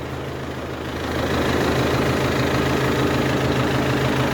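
An old tractor engine idling outdoors, a steady low rumbling putter with a regular knocking pulse that swells a little in loudness after the first second and then holds constant, close by and alone.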